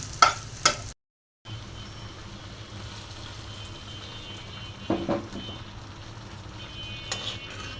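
Panch phoron spice and vegetables for a vegetarian dish of bottle gourd, potato and eggplant frying in a pan, a steady close sizzle with a couple of stirring scrapes and clatters, no talk.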